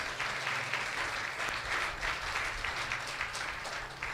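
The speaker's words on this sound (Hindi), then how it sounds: "ताली बजा सकते हो बहनों, भाई भी।" Applause from a congregation at a church ministry gathering, many hands clapping in a steady, dense wash that runs the whole stretch at a moderate distance, with no voices over it.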